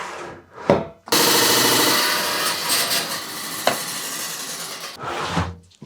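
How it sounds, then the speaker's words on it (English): A Stone Master saw cuts through an agate, making a loud sustained grinding hiss that starts abruptly after a brief knock and runs for several seconds before ending, with short clatters on either side and no talking. "Cutting an agate like this in my Stone Master saw is probably just taking about a minute."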